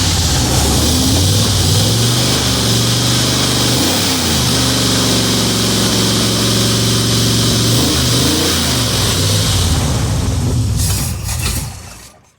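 A car engine with a carburetor idles loudly and steadily, with a few small shifts in pitch, then sputters and cuts out near the end as it runs out of fuel.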